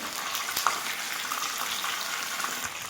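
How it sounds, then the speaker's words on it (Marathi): Tilapia fish frying in oil under a lid in a covered pan, giving a steady, fairly close hiss and sizzle with faint crackles and no voices. "आता आपण थोडं याला झाकून मस्तपैकी फ्राय होऊ देणार आहोत"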